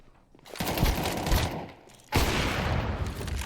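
Gunfire in a Counter-Strike 2 tournament match, two loud, dense bursts of shooting about a second and a half apart, each ringing on briefly, with no talk.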